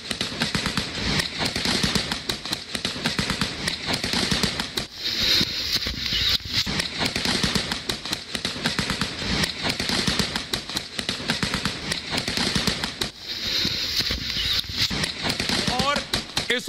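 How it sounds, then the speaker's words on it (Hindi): Rapid bursts of gunfire crackle through an army operation against militants in Kashmir, the sharp shots tumbling densely for the whole stretch with brief lulls, loud and close over a noisy outdoor background. "बाकायदा जवानों ने मोर्चा लिया और उसके बाद फायरिंग शुरू हुई।"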